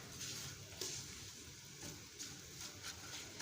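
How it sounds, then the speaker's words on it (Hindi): Spices sautéing in oil in a home kitchen pan give a faint, steady sizzle with a few soft scrapes of stirring, heard alone with no talking. "ये भी यहाँ पे मैं तमाम मसाले जो है वो ऑयल में भून रही हूँ।"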